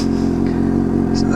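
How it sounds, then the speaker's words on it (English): Suzuki GSX-S750 motorcycle with an aftermarket exhaust cruising on a rural highway, a steady loud engine drone with a constant low throbbing note. "It's a little bit louder and a little bit lighter with that exhaust"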